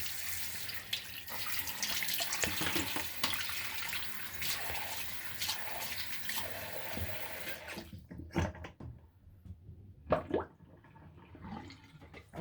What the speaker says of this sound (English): Let's see, I can fill the sink.